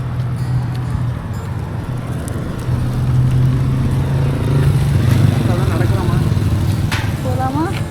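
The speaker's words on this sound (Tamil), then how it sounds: "ஒரு மாதிரி கொஞ்சம் பவர்ஃபுல்லான ஸ்கூட்டி. வண்டியே சவுண்டே அப்படி தான் இருக்குது." Powerful motor scooters pass on a busy street near a night market in Langkawi, Malaysia, with a loud, steady engine drone that swells as vehicles go by amid general street noise.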